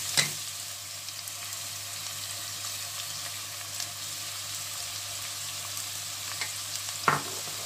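Two onions sizzle steadily in hot oil in a pan, a continuous close frying hiss with a couple of brief sharper clicks, no voices over it.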